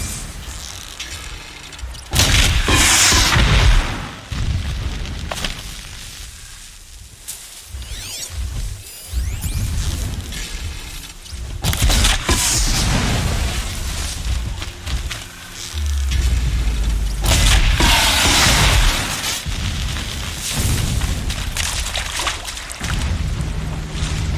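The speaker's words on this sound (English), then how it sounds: "explosions in the distance" Distant explosions in the video game Horizon Zero Dawn rumble as deep booms and whooshing blasts, rising and falling in waves over a continuous dense roar with no speech.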